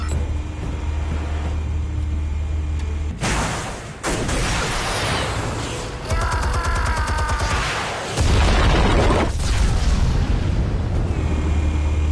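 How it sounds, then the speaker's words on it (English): Explosives detonate in the video game Telltale's Batman, with loud broadband booms and crashing blasts over a steady low rumble, followed by a heavy sustained roar, all without speech. "Explosives armed. Fire when ready."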